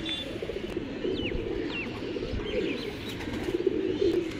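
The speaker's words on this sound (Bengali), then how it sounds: "এই পাশে কিছু কবুতর আছে, এই যে এইগুলো।" Pigeons coo at a Rajshahi giribaz pigeon farm, several soft, repeated low coos rising and falling close by, with brief higher chirps over a steady outdoor hum.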